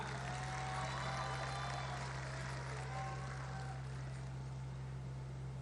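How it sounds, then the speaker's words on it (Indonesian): An audience at a Golkar party anniversary event applauds a welcome for Indonesia's president, a faint, dense patter of clapping over a steady low electrical hum. "Kita beri tepuk tangan yang meriah."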